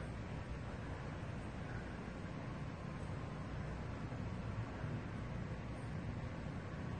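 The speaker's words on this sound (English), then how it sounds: "So the sound you hear is the generators from people around" A steady, dense low rumble of engines droning on without pause, like generators running somewhere nearby, with a broadband hiss over it.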